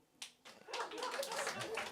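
Audience at a comedy club breaks into clapping, first a few scattered claps, then a quick swell of quieter, moderately dense hand clapping that holds to the end.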